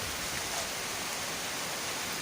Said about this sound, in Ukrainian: хочу показати вам, який зараз у нас дощ